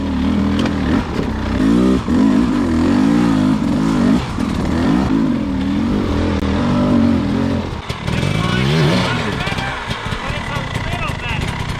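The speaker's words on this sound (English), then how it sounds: "So now we start driving up this hill." A dirt bike engine revs loudly and continuously while climbing a steep trail hill, its pitch rising and falling with throttle and clattering over rough ground, with voices talking over it.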